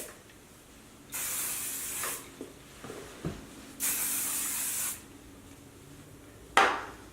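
Two long bursts of hissing hair spray from an aerosol can, each about a second long, close by, with small handling taps and a short final puff on curled long hair.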